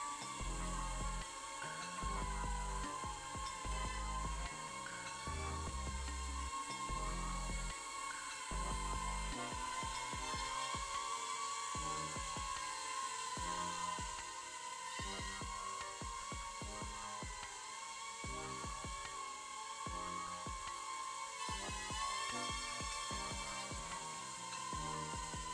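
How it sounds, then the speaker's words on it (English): Small FPV drone flying without propeller guards, a steady, loud high-pitched whine with shifting motor tones that rise and fall throughout, no voices. "This drone does not have propeller guards on there."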